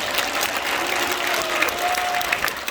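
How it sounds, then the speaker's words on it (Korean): Audience applause at a large political rally in Korea, a dense, steady wash of clapping hands that fills the whole moment without pause, loud and close with faint crowd noise beneath. "신혜식 대표에게도 여러분 감사의 박수를 보내주시기 바랍니다"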